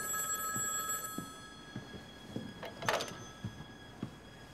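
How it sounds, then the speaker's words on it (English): A telephone bell rings faintly and continuously in the background while soft knocks and a sliding, door-like rustle occur nearby. "Who could be calling? I don't know. Go and answer the phone."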